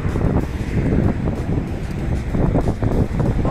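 Strong wind at a bus stop in Prague 4 batters the microphone with a loud, continuous rumbling roar that gusts and buffets throughout.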